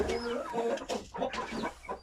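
A breeding hen of the Indian Game breed clucks close by, a string of low, throaty clucks and short murmurs in an uneven rhythm, heard alone at a soft level.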